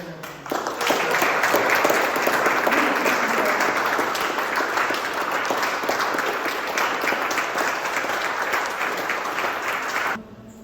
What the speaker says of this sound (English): please a round of applause again for Caden Flores